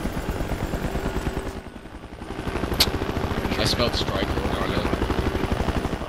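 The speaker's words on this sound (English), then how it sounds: "Let's go to the chopper." A military helicopter in the tactical shooter game Project Reality churns with a steady, close rotor and engine rumble throughout, with a few sharp gunfire-like cracks and a voice talking over it.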